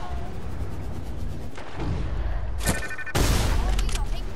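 Gunshots in Fortnite, a few sharp cracks spaced apart, the last one loudest and closest, over background game ambience with players talking.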